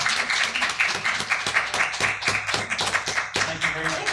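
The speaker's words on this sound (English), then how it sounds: "Let's give her a round of applause." Applause for a woman at an advisory board gathering: a steady, dense wash of many hands clapping together from the crowd, sustained throughout at moderate loudness.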